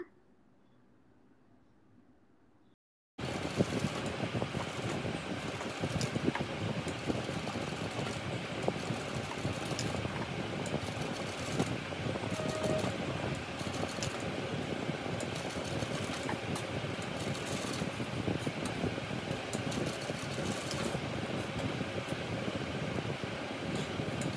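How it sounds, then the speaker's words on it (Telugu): A sewing machine top-stitches a Punjabi dress with a boat neck: a steady, continuous mechanical whir that starts abruptly after a few seconds of quiet and runs on without pause, fairly close. "సో నేనైతే ఇక్కడ స్టిచ్ వేస్తున్నాను పైన."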